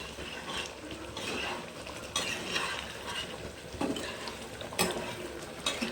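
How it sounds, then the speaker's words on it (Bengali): Spoon stirring sugar into a thick mung dal and papaya curry in a pan, with repeated scraping strokes, soft clinks against the metal and a faint simmer underneath, close and fairly quiet. "আমি অল্প একটু চিনি দিয়ে ভালো করে নাড়াচাড়া করে নেব"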